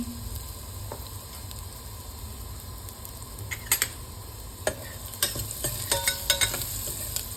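Ginger, garlic and turmeric fry and sizzle in a pan for a soybean dish, a steady close hiss with intermittent clicks and scraping taps of stirring, no talk.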